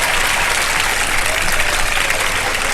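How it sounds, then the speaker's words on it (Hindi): A studio audience at a televised Ramadan quiz show breaks into loud, sustained applause, a thick continuous roar of clapping hands that stays level throughout. "तालियां बजा दे तीनों के लिए।"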